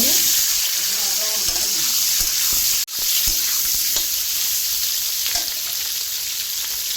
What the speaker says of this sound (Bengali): এখন আলুটাকে ভেজে নেবো